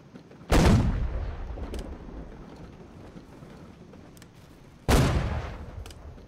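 Ship cannons fire in a naval video game, two heavy booming blasts about four seconds apart, each with a rumbling tail fading into light background noise.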